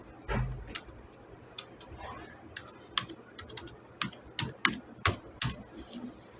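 Typing data into an Excel worksheet on a computer keyboard, a run of sharp, close key clicks that grows denser and louder toward the end, alone without talk.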